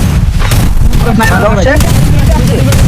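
Loud, dense gunfire and booming blasts from a battle royale tournament match in a video game, with bursts overlapping close up throughout.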